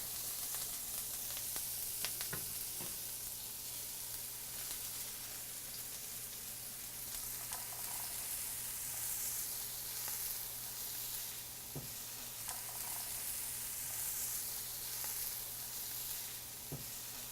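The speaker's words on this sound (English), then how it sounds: "Now I'm putting in the onions." Onions frying in a pan with a constant soft hiss and crackle, fairly quiet and even, with a few faint knocks and clinks scattered through and no voices.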